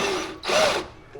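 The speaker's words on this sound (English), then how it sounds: "it is a huge blessing to have some decent drill bits, especially these small ones to get the hole started." Power drill boring a starter hole with a small bit in a hot rod garage, two short whirring bursts with a rising pitch, loud and close.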